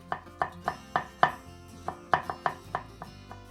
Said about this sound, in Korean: 마늘은 대파보다 조금 더 잘게 다져줍니다